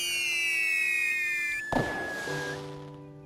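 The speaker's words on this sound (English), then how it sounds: "You get fireworks" Modded fireworks in the VR game cyubeVR: a rising whistle, then a sharp bang with crackling burst and lingering sparkle, fairly loud and alone.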